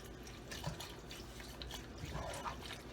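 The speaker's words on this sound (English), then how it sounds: "Now I'm going to add in the broth, and I'm going to pour this entire" Broth from a quart carton being poured into a detox soup mixture, a soft steady liquid trickle and splash running continuously at moderate level with faint kitchen background.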